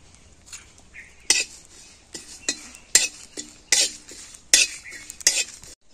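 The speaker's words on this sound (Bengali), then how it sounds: "শুকনো লঙ্কাটা আগে একটু ভেজে নিচ্ছি, জিরেটা দিয়ে দেবো" Dry red chillies and cumin frying in a pan, stirred with a utensil that gives sharp metallic scrapes and clinks at a steady, irregular pace over a faint background sizzle; no voices.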